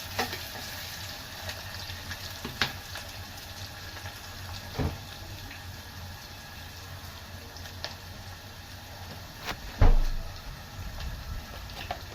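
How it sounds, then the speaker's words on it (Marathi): Onion frying in a pan for a spicy tempered rice dish, a steady soft sizzle broken by occasional scrapes and knocks as it is stirred, close and with no one talking. "कांदा करपू नये यासाठी तो हलवून घ्यावा।"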